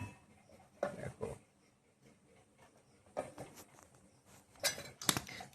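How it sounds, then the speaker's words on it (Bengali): Sour yogurt container being opened in a home kitchen, a few faint plastic clicks and rustles in short bursts with quiet pauses between. "টক দই খোলা হচ্ছে।"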